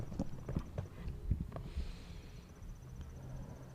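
Show jumping horse's hoofbeats in an outdoor CSI2* Grand Prix arena, a series of dull, uneven thuds at moderate distance over steady crowd and ambient noise, with a faint snort.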